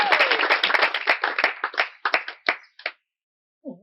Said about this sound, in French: Un tonnerre d'applaudissements pour elle.